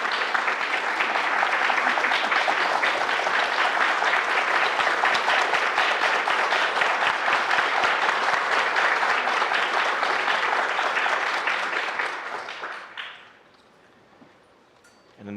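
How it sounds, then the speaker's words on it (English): A large audience delivers a rousing standing ovation, dense sustained clapping that holds strong for about twelve seconds before fading away into near silence. "one response to that is a rousing standing ovation for what we just heard"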